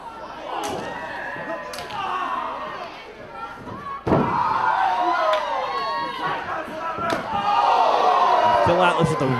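Independent wrestling show where a wrestler lands a running kick to an opponent's back, producing sharp slapping thuds and a heavy impact around four seconds in, over a loud, chanting and cheering crowd with commentators talking.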